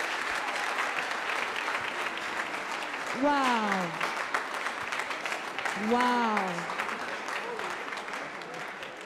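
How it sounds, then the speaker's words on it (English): A congregation claps loudly and continuously after a hymn rendition at a university spiritual-emphasis hymns night service, while a voice exclaims twice over the applause. "Let's keep clapping."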